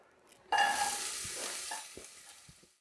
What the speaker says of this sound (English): we're going to dump in those onions. We're just going to sweat them down so they're just starting to brown